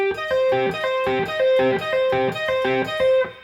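A Fender Stratocaster electric guitar plays a quick repeating blues phrase with a string bend that rises in pitch, heard alone and fairly loud.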